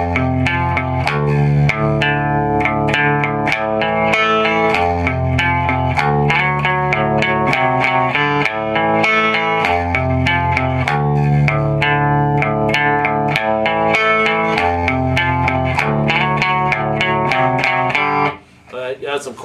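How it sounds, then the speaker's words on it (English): An electric guitar with distortion and chorus effects plays a song in a 90s grunge style, a steady strummed chord progression ringing continuously for about twenty seconds, loud and alone. "Add some chorus to that, and it's going to sound like 90s grunge"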